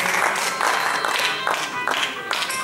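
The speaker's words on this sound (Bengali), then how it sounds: "সকলে একটু করতালিতে" An audience at a theatre group's felicitation ceremony claps steadily for a monk, a fairly loud, even applause with a few distinct individual claps and faint voices underneath.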